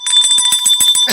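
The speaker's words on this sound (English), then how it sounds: "What's the bell?" An electronic bell or alarm rings steadily for just over a second, a bright, rapidly pulsing metallic tone that stays loud and close throughout with no talking.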